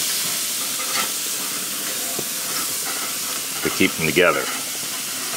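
Ham steaks sizzle on a hot grill with a constant bright hiss, while a voice speaks briefly over the frying toward the end.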